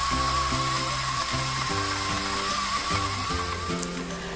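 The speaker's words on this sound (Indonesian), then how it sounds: "ini tinggal aku tambahin aja secukupnya hingga bumbu-bumbu tadi itu lebih mudah aku blender" An electric blender grinding a spice paste of blended seasonings with added oil, a loud steady motor whine with a rhythmic pulsing churn as the blades work the mixture, running continuously with no talking.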